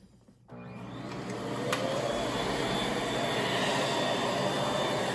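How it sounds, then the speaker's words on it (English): A pet grooming vacuum with a built-in dryer and brush starts up and runs in a steady, fairly loud whir that holds without a break. "I love this grooming cleaner because it's actually pretty quiet."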